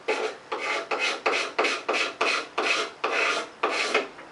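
Hand scraper drawn across a wooden board, about nine evenly spaced rasping strokes, each a sharp scrape that fades quickly, close and clear with no talking.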